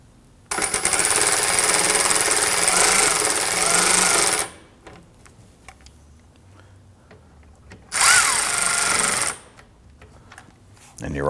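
Power tool snugging down bolts on a 2009-2017 Volvo XC60 during crankshaft position sensor replacement, two loud whirring bursts, the first about four seconds long, the second shorter, with quiet shop sounds between.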